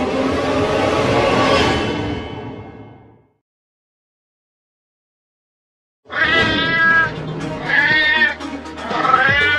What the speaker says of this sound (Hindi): अरे छोड़ दो बिल्ली मौसी, पहले ही तुम मुझे बहुत काट चुकी हो, अब और मत काटो।